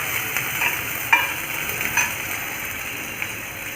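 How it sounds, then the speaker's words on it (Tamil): Onions saute in hot oil in a pan over whole spices, a soft, steady sizzle with a few light utensil taps and scrapes, close by and with no voices. "ஸோ வெங்காயம் போட்டு வதக்கிக்கோங்க"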